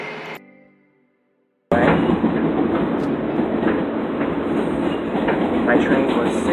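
A passenger train runs on rails with a loud, close, steady rumble and rolling clatter that starts abruptly after a brief fading sound and a moment of silence, continuing to the end with no talk.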